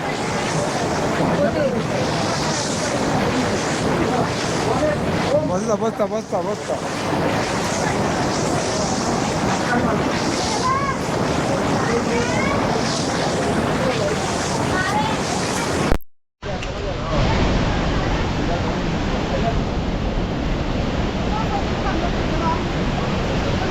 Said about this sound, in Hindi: सरस्वती नदी का उद्गम स्थल। यहाँ से निकल के आगे अलकनंदा में मिलके ये विलुप्त हो जाती है।